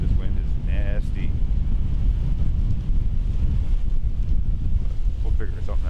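A strong wind gusts across an open Pennsylvania deer-hunting spot, buffeting the microphone with a loud, rough, continuous rumble, and a brief faint call sounds early on.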